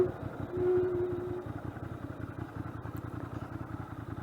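A 1994 Ducati Monster 600 motorcycle engine idles nearby with a steady, lumpy, rapid low-pitched throb and a brief swell early on, running alone without talk.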